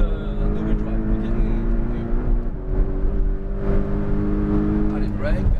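A Porsche Cayman GTS engine pulls on a race track, a steady rising drone close by, while an instructor talks over it throughout.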